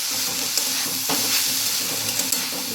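Vegetables for Schezwan rice stir-fry in a pan over a high gas flame, giving a loud, continuous sizzle and hiss broken by the scrape of a spatula tossing them, with no voices.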